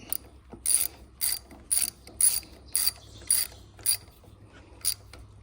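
A ratchet tightening a bolt back into a John Deere starter: eight or so sharp, evenly spaced ratcheting bursts, close and crisp with short pauses between strokes.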